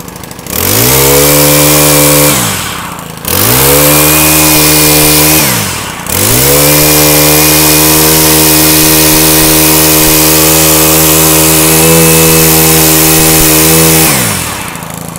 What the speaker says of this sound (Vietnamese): động cơ 4 thì con này thì xài cực kỳ tiết kiệm xăng luôn